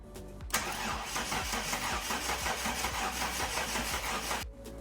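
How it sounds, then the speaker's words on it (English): A Ford XR6 Turbo cranks briefly, then catches and settles into a steady, rumbling idle that runs close and loud for several seconds before cutting off, with no one talking. "So I'm just gonna pump some oil through and some water through before we start the car and see how it runs."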